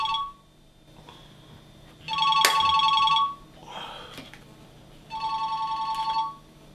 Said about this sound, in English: I'm just going to phone Hugh.